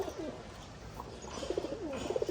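Pigeons cooing in a loft as they are given a multivitamin, with several soft, repeated coos rising toward the end over low background noise.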